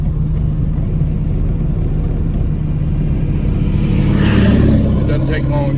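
A 1932 Ford Model B with a three-speed manual transmission drives along, its engine giving a steady low rumble that swells briefly near the end, with a voice talking over it.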